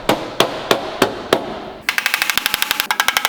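Sharp metal hammer blows on the muffler of a Porsche 930, five evenly spaced strikes, then a fast rattling burst of quicker impacts close up, with no voices.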